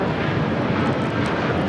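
A Turkish Airlines Boeing 787 Dreamliner touches down on LAX's south side, a loud, dense jet rumble rolling on steadily for a moment.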